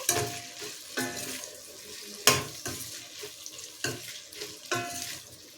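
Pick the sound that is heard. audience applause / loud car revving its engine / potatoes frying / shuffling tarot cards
potatoes frying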